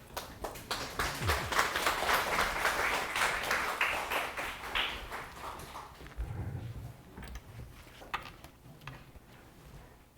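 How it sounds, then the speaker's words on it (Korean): Applause from a church congregation welcomes a speaker at a Bible conference lecture. The dense clapping starts right away, stays fairly steady and then fades out over the last few seconds. "나오실 때 박수를 드리겠습니다."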